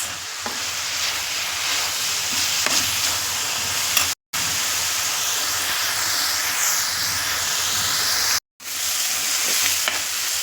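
Onion and fenugreek greens stir-fry in a pan with a loud, continuous close sizzle and hiss, broken by two brief silent gaps, no voices.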